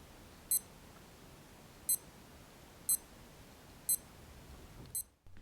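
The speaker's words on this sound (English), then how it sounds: "Press the buttons to ensure that the beeps are working." A G-Shock GBD200 watch gives four short, crisp button beeps spaced about a second apart, loud against a quiet background, with a faint click at the end.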